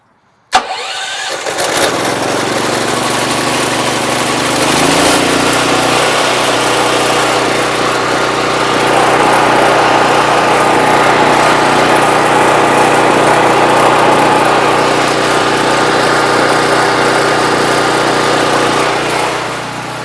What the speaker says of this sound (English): I want to start the generator before I plug it into any kind of power cords